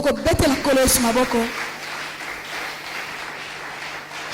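Congregation applauding at an evening evangelistic crusade service, a burst of clapping that starts under a voice and fades into sustained room noise.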